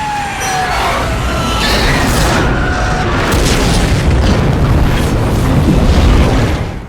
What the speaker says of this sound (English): A secondary explosion left him powerless to help.